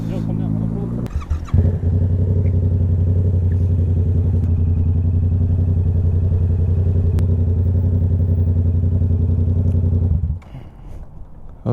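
Motorcycles idle loudly nearby after a brief burst of clatter and voices, a steady rumbling engine drone that holds for about nine seconds before dropping off abruptly.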